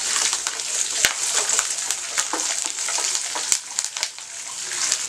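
Urad dal, black pepper, cumin and garlic frying in a pan for chutney: a steady, close sizzle full of crackles and sharp pops, with no voices.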